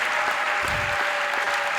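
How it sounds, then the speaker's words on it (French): A prayer-service congregation claps together in a steady, even wash of applause that fills the whole short stretch, close and dense, with no voices over it. "Applaudis très bien pour le Seigneur des Seigneurs."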